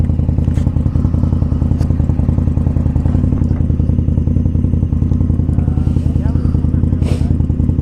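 A Harley-Davidson Iron 1200 motorcycle rumbles along in a steady, loud, close engine drone with a deep throb, and faint clatter runs through the whole ride.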